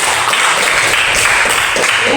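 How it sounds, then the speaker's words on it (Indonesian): Grade 11 high school students in a classroom give a burst of dense, steady applause, with many hands clapping close together for the whole moment. "Berikan tepuk tangan."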